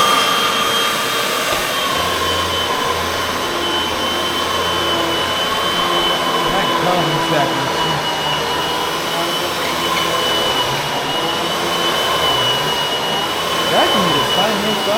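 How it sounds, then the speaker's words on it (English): A vacuum cleaner runs on a thin rug, a loud, steady motor roar with a high whine held throughout, close by, while a voice speaks briefly over it. "Vacuum is fine, I don't know what the problem is"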